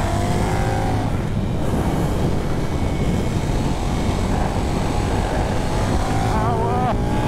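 A KTM 1390 Super Duke motorcycle pulling hard in third gear, a loud continuous engine roar that climbs and rises in pitch, heavy wind rush over it and a rising whine near the end.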